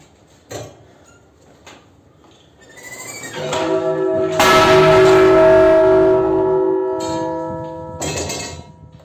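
A church bell rings out as it swings, a few light knocks leading to one strong, ringing stroke whose tone hangs and slowly fades, followed by a couple of softer clanks.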